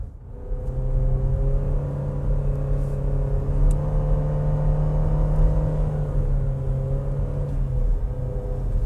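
Cabin drone of a 2021 Renault Duster with CVT transmission, its engine held above 3000 RPM, a steady loud rumbling hum with a sustained tonal whine and only slight pitch drift, heard alone without talk.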